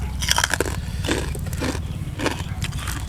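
Crunchy bites into crispy fried pork tail served with spicy Thai-Lao papaya salad, a few sharp crackling crunches and chewing noises close to the microphone, with a low background hum.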